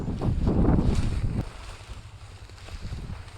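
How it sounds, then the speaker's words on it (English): Strong wind buffets the microphone outdoors during a pheasant hunt in Pennsylvania, a loud rushing roar for the first second and a half that drops to a steadier, lower gusting rumble. "the wind is pretty high today"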